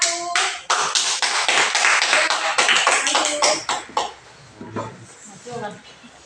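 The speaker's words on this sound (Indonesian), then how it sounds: "beri aplaus untuk kelompok 1" Applause from a school classroom audience for a student group about to present pineapple jam with packaging labels, a dense patter of clapping hands that holds steady, then thins into scattered claps near the end.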